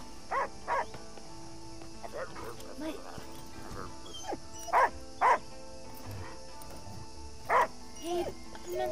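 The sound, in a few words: dog barking in the video game Last Day of June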